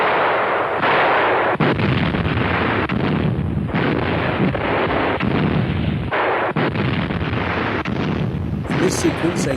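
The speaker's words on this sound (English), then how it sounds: "In this sequence, 88mm Flak 36 provide air cover to German ground forces in western Russia in 1944." German 88mm Flak 36 anti-aircraft guns firing in western Russia in 1944, heavy booming shots repeating every second or two in a loud, dense barrage.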